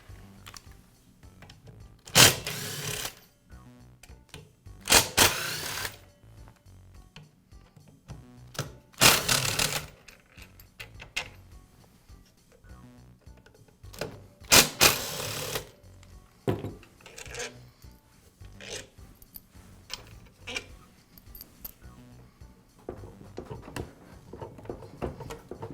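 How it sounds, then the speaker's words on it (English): Power screwdriver backing screws out of the motor housing of a Makita miter saw, four short loud whirring bursts spaced a few seconds apart, with light tapping and handling clicks between them. "Now I'll remove the 4 screws that secure the motor housing."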